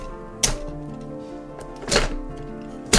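A spring-loaded shooter on a 2014 LEGO Star Wars AV-7 cannon set being fired: three short plastic thunks and snaps spaced about a second apart, close and fairly loud, over a faint hum, with no talking.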